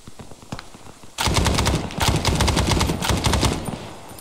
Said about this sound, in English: I'm gonna burn through 10 magazines in the SLR.